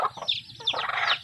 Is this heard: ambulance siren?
no